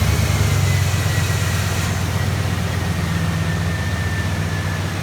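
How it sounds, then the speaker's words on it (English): A 2002 Chevy Silverado engine, started by a Viper remote start system, gives a steady, loud low rumble that holds evenly throughout. "we push the smart start button. It will crank on the engine."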